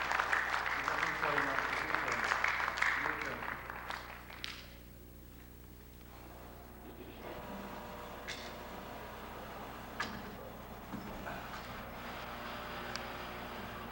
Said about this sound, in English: Let's get a round of applause, please, for teacher of second class